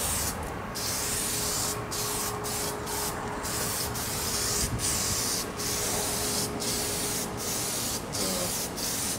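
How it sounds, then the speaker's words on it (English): Steady hissing spray from an aerosol can of lacquer, sustained for several seconds with brief pauses between bursts, close and even. "Spray lacquer is completely safe when it's dry."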